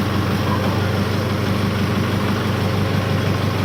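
A tractor engine idles steadily at close range as its hydraulic lift raises a farm implement before plowing a field; the low, even rumble carries on alone with no talk.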